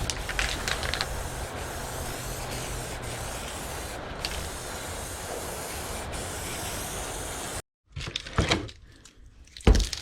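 Raptor liner being sprayed inside the cab of a 1947 Ford pickup, a steady close hiss of spray gun and compressor running continuously for most of the clip before stopping abruptly, followed by brief clatter and handling noises.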